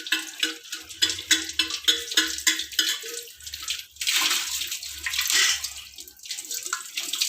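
A metal vessel scrubbed with Sabena cleaning powder in salty water, with rhythmic wet rubbing strokes and splashing, loud and close, moving into longer sloshing scrubs partway through.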